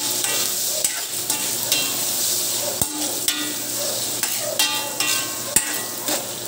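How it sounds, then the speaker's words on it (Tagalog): Bell pepper and carrots sizzle steadily in a hot pan for pork menudo, broken by repeated sharp clinks and scrapes of a utensil stirring. "Isunod natin yung bell pepper. Yan natin din yung ipiprito."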